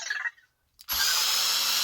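A power tool with a 2.5 bit spins bolts out of the top cover of a 1/5th scale Exceed Barca 4x4 RC car, starting with a short whir, then a pause, then a loud sustained whine close by.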